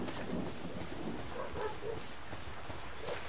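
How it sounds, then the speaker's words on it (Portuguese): Dogs bark and yip intermittently in the background during a Resident Evil 6 gameplay session, small scattered barks that stay faint and distant throughout. "Se vocês estiverem escutando aí uns latidos, não deem bola que não dá pra evitar"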